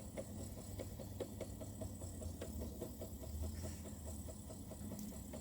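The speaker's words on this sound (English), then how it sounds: "we're going to turn on the easy winder" An electric spinning wheel with a level winder runs outdoors, giving a steady low mechanical hum with a faint repeating tick, constant and even throughout with no talking.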